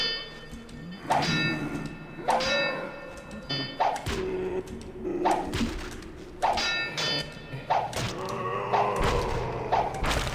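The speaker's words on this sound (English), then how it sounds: "Okay, raise the gate." In the Thief video game, a mechanism raises a gate in a dungeon, making a series of heavy metallic clanks and thuds in an irregular rhythm, each with a short ringing tail.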